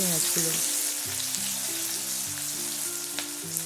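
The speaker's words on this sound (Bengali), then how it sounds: "এরপর তেলের মধ্যে দিয়ে দিচ্ছি একটা এলাচ, একটা তেজপাতা আর কেটে রাখা" Cardamom, a bay leaf and chopped onion dropped into hot oil for chicken kosa, a loud steady sizzle close up, with some faint tonal background sound underneath.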